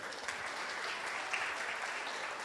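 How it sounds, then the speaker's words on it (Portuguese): Church congregation clapping in a steady, dense wash of applause, moderately distant and fairly quiet, with no voices standing out above the clapping. "palmas para ele"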